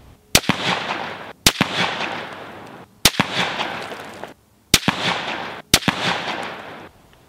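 Five loud, sharp rifle shots fired at a range after a drop test of a Leupold LCO optic, evenly spaced over several seconds, each followed by a long rolling echo that decays before the next.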